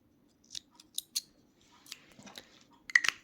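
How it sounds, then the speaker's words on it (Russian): Scissors snip knitting yarn at the end of a lacy sock, giving a few quiet, crisp clicks and a short rustle close by in a still room. "Теперь мы с вами берем ножницы, отрезаем ниточку так подлиннее."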